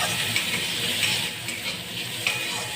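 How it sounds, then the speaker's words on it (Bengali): Bottle gourd peel fries in a pan with a little sugar, making a steady, close sizzle with faint occasional stirring ticks and no talk. "চিনিটাও গলে গেছে আর খোসাটাও ভাজা হয়ে আসছে।"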